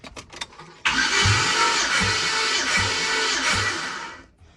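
A turbocharged Chevrolet Silverado engine that has never run cranks over for about three and a half seconds, with loud, rhythmic compression pulses under the starter whine before it cuts off abruptly.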